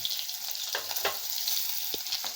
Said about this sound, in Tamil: இப்படி நல்லா வதக்கணுங்க. நல்ல எண்ணெயில் வதங்கிடணுங்க.